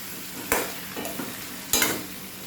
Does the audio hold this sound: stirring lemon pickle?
yes